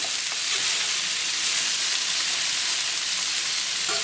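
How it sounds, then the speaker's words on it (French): Porcini mushrooms searing on a very hot plancha give a loud, steady, unbroken sizzle and hiss with no talking over it. "quand on cuit des champignons à la plancha, c'est que l'eau de végétation au contact de la planche qui est très chaude s'évapore pour ainsi dire tout de suite"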